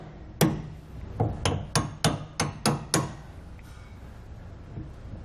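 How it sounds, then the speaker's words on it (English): Bolts are hammered out of a Roadmaster Comfort Ride suspension on a 2017 Grand Design Reflection RV, with about eight sharp metallic hammer strikes in a quick rhythm, close and clear, then quiet. "then you can just hammer them right on out."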